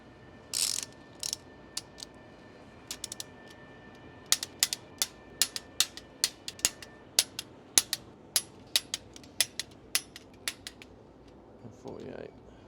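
A torque wrench checking the head bolts on a Rolls Royce B80 engine gives a quiet run of sharp metallic clicks in a steady rhythm, with a few isolated clicks before the main series.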